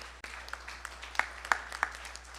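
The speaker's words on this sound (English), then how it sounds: "I want you to give yourselves a round of applause" A congregation at a Sunday Divali service applauding, a thin, sparse patter of clapping with a few louder individual claps standing out, fairly faint and distant.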